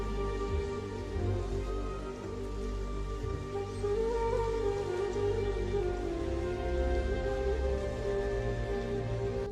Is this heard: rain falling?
yes